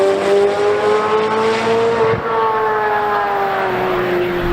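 Chevrolet Corvette C8 Z06 with a flat-plane crank V8, a loud, sustained high-pitched exhaust wail held at steady revs that dips briefly and then carries on slightly lower.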